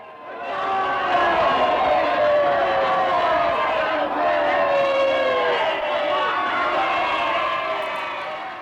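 A large crowd roars independence cheers for the March 1, 1919 Korean independence movement, rendered as a sound effect: a dense, sustained wall of massed shouting that swells in and fades slightly at the end.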